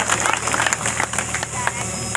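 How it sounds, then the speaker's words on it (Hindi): Crowd applause at a village mahapanchayat gathering in Hissar, Haryana, as villagers are welcomed: dense, continuous clapping from many hands, close and lively, with a voice speaking over it. "तालियों के साथ गांव कदली के लोगों का स्वागत है यहाँ पर।"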